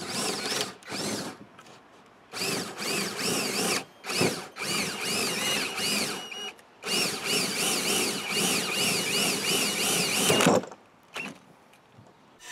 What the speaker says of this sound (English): Now I'm drilling out the fingers on the box joint.